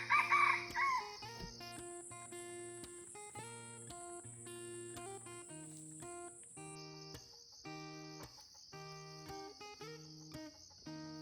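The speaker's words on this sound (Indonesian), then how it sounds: "di sini kita udah jumpa sama kokok ayam hutan dan ayamnya itu masih di atas pohon" Wild junglefowl perched in a tree on an oil palm plantation at morning, a single crow near the start, then steady high buzzing of insects and other bird calls.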